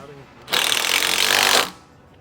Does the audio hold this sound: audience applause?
no